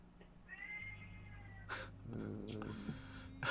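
A cat in the room lets out one drawn-out, wavering meow, fairly faint. It sounds over a low background hum during a tabletop game session at home.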